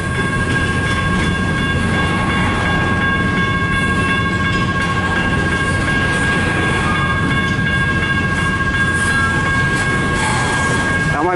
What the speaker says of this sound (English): Man, that's a long train.